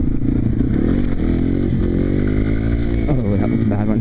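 A motorcycle engine drones loudly and close during a stand-up wheelie in second gear, its pitch rising and falling as the throttle changes, with a voice talking over it.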